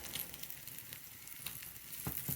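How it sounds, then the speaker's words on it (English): Canned Spam pressed down in a hot pan gives a faint, steady sizzle and crackle, heard close and alone. "If you want to hear it make that like a sizzling sound, just"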